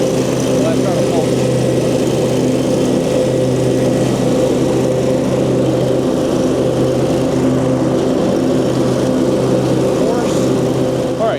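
A Hustler Trimstar lawn mower fitted with X blades runs steadily on grass, a loud continuous engine drone with a rough, churning blade rumble and no breaks in the sound.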